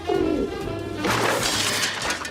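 Pigeon cooing from a scene in the comedy film The Naked Gun 33 1/3: The Final Insult, a close, loud, warbling coo rolling on steadily for a couple of seconds with no talk over it.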